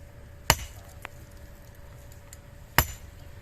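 A hammer strikes rock to break it, two sharp, loud impacts about two seconds apart with a lighter tap between them, each ringing briefly against a quiet outdoor background.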